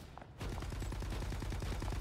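Gunfire in the Marvel Rivals video game crackles as a rapid run of evenly spaced shots, loud and close, starting abruptly after a brief quiet moment.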